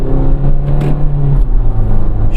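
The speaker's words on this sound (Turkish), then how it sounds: "Şöyle devir ben atacağım 5000'e yaklaştığı zaman" The engine of an automatic Fiat Doblo revs hard under acceleration on a winding mountain road, a loud, steady drone heard from inside the cabin with no talking.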